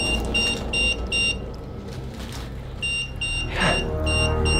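An EMF detector beeps in repeated short electronic tones at a hillside Japanese-era military bunker at Qingtiangang, the bursts coming in regular groups with a pause in the middle, close and fairly loud.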